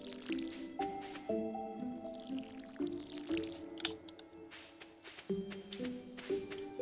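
Crops being watered in Stardew Valley give repeated cartoonish squishy splash and drip effects in a quick rhythm, layered over light background game music with no talk.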